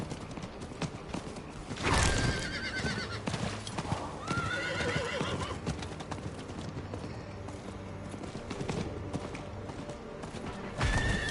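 A horse in a video game whinnies loudly while its hooves clip-clop in a steady rhythm, with further neighs and hoofbeats through the scene and faint talk underneath.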